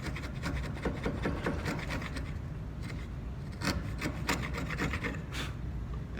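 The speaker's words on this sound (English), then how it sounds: "I'm just going to do a little bit more fine chiseling." A flat-held wood chisel pares fine shavings to clean up high spots on a wooden joint board, giving a steady close scraping and rasping with short sharper strokes and no talk.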